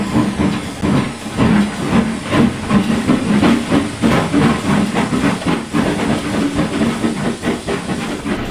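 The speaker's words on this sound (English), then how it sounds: "The guard's whistle blew and James snorted away." A steam engine puffs away steadily after a guard's whistle, with rhythmic hissing chuffs at a constant pace, loud and close with a continuous steamy hiss underneath.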